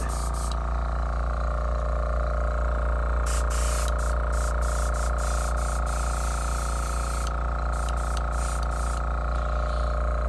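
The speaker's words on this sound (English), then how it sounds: "This stuff is airbrush because it's going on so light." Steady airbrush hiss spraying paint lightly and continuously onto an antler under repair, with a faint mechanical hum underneath and brief bursts of extra air at intervals.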